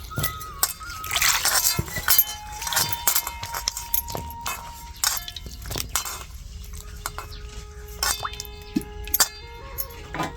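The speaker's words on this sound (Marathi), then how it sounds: "आता धुवून घेतलं अजून एकदा धुवून घ्यायचं" Leafy vegetables being washed by hand in water: uneven sloshing and splashing with light clinks of a steel vessel, close and busy throughout, with no talk.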